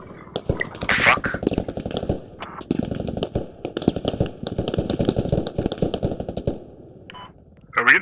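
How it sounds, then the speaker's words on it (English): Rapid automatic gunfire crackles through a firefight in the military shooter Squad, continuous rattling bursts at a steady distance while players talk over the shooting. "Are we getting shot at from the west now?"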